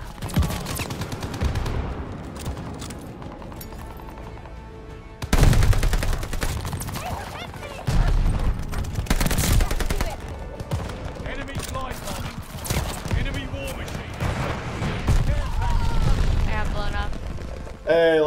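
Rapid inferno-round gunfire and booming impacts from a Call of Duty Vanguard multiplayer match burst in dense volleys, with a player talking over the shooting and game effects throughout.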